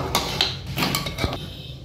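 Mutton curry with coriander powder and added water is stirred in a pressure cooker pot, with a few sharp metallic scrapes and clanks of the spoon against the metal, close and brief, no talking.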